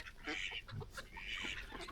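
Several ducks quack in quick bursts, fairly close and loud, with a steady outdoor background and no talking.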